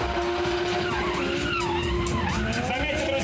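Fire trucks maneuver at speed in a competition, a continuous, loud engine drone with screeching tires and rising and falling tones, close by and unbroken throughout.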